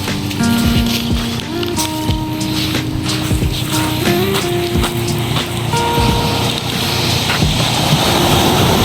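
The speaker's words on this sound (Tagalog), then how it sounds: "Lalaki ng alon." Large ocean waves break at a beach in the early morning, a loud, steady broadband roar that fills the whole stretch, with voices and faint tonal sounds mixed in over it.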